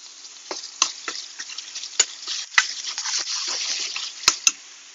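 Refrito sizzles and crackles in coconut oil in a pan, with sharp pops and spatters over a steady frying hiss, close and moderately loud.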